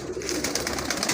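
White pigeons coo softly in repeated low throaty calls, close by over a hissing background, with no one talking.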